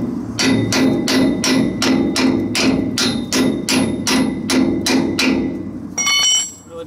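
Hammer striking a metal part on a trailer, about ten loud evenly spaced ringing blows in a steady rhythm, close up, followed by a brief metallic rattle.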